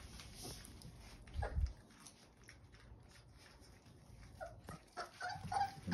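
Puppies in a room used as a big dog crate, faint scattered whimpers and soft yips at irregular moments against quiet background.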